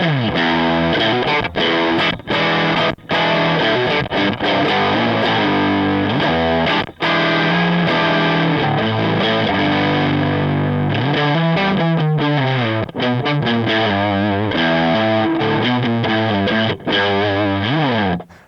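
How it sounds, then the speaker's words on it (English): Fuzz-distorted electric guitar chords through a Kemper Profiling Amplifier ring out loud and saturated, strummed rhythmically with a few brief pauses between phrases. "Pretty cool sounding classic sort of fuzz sound."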